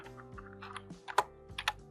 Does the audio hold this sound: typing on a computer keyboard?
yes